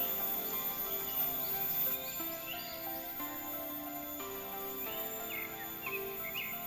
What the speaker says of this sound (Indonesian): yang paling enak didengar adalah suara kicauan burung kayak gini